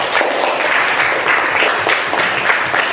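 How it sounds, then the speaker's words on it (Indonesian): Students in a classroom give loud, dense applause for a group presentation, a sustained burst of many hands clapping close by with no speech over it. "beri tepuk tangan untuk kelompok Banteng"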